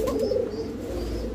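A fancy pigeon at a bird market gives a steady low coo, close and continuous for a moment.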